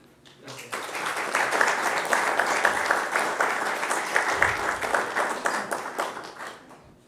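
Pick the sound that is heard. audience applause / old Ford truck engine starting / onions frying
audience applause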